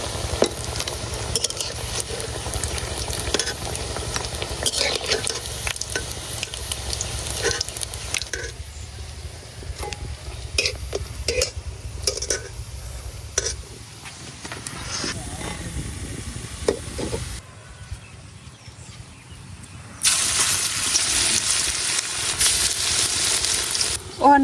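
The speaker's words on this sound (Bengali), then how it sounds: "ওখানে আমি এইবার সবটি বড়া বাজ্যা লিয়াম" Red lentil fritters (bora) fry in hot oil in a home kitchen, with a steady close sizzle and hiss under occasional stirring and scraping, growing louder near the end.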